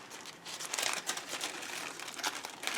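Small scraps of fabric trimmings rustle and crinkle as they are gathered into a little bag, a close, steady crackling with no pauses.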